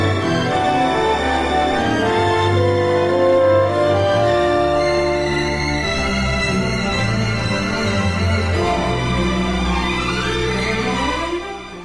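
The New York Philharmonic plays the first movement of Christopher Rouse's Fourth Symphony, a dense full orchestral texture of sustained strings and winds rising in sweeping lines, loud and continuous.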